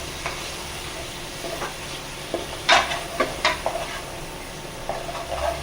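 Tomatoes sautéing in a pan for homemade biryani: a steady low sizzle with a few sharp scrapes and clinks as a spoon stirs against the pan, close and moderately loud, with no talking.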